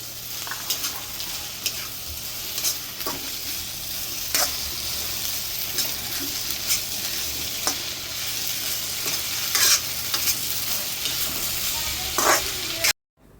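Potato filling with turmeric and green chilies being stirred in a pan, repeated scraping spoon strokes over a low continuous sizzle, close and fairly steady, then an abrupt cut at the very end.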